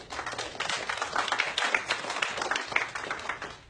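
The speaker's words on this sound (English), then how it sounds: "People are clapping for Iran?" An audience breaks into dense, steady clapping, a continuous patter of many hands at moderate distance lasting the whole short stretch with no voices over it.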